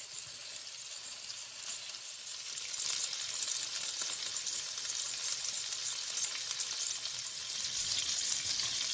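Salmon fillets searing in a skillet for creamy garlic butter Tuscan salmon, an even, bright sizzle running the whole time, growing slightly louder toward the end, with no one speaking.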